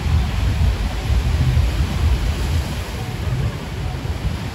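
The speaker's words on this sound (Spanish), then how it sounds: "El mar está muy picado." Rough sea at a Cancún beach under a red flag churns in a heavy, rumbling surf roar with gusts of wind, loud and continuous, the low crashes swelling and easing.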